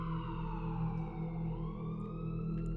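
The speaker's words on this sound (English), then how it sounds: "the sound of police sirens pierced the night, growing louder with each passing moment." Police car sirens wail steadily at night, the tone sweeping slowly down and back up, sustained and fairly near without a break.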